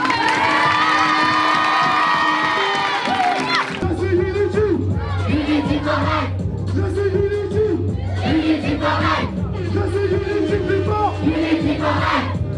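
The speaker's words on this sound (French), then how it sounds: "Merci, applaudissez-nous." A live show audience cheers, whoops and shouts loudly as a crowd, with applause mixed in, after a brief burst of amplified music at the start; the roar is dense and sustained throughout.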